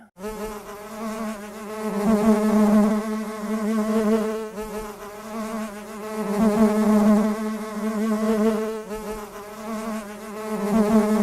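Honeybees buzzing steadily around a backyard hive in Pine City, New York, a dense continuous drone of many insects close by that swells and eases in loudness throughout.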